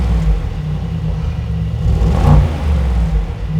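A Brabus G800 conversion of a Mercedes-AMG G-Class in normal drive mode, its engine rumbling at idle, then swelling in a single short rev and settling back down, heard close and loud with no talking.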